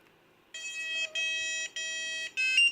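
An electronic buzzer on a multi-rotor LED/buzzer module plays a bright, tonal tune in four sustained beeping notes, each shifting pitch, loud and close with no voices.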